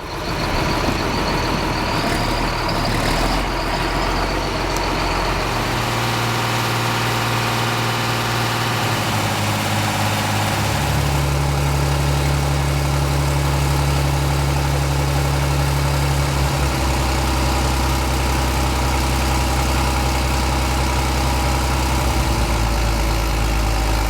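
Classic John Deere 4055, 4255 or 4755 tractor engine running loaded on a dynamometer, a loud continuous diesel drone that shifts pitch as the load changes, heard alone with no talk.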